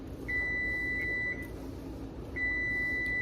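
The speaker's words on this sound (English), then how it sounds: "There's my timer going off." A kitchen timer beeps while Italian sausage is cooked for a creamy soup: two long, steady electronic tones, the first briefly broken, the second starting after a pause, over a soft hum of background noise.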